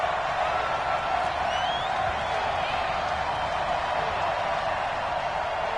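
Crowd noise swells steadily in a video game football broadcast ahead of a big third down, a continuous roar with faint whoops and cheers, no clear voice over it.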